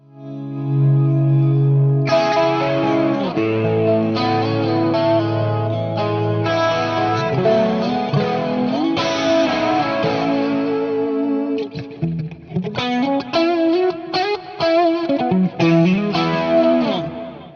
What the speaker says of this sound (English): Here's a pretty light hall verb that I usually put on with that